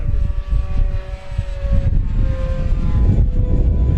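A HobbyKing Durafly P-40N 1100mm electric RC model warplane flies aerobatics overhead, its motor whining loudly with a pitch that shifts as it pulls up and rolls, mixed with strong wind buffeting on the microphone.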